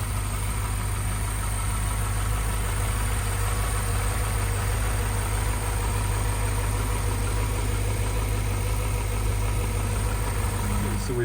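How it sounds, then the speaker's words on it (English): Cold engine of a 2002 BMW Z8 idling with the bonnet open, a loud, steady, close hum with low rumble and no revving. "let you hear it anyway"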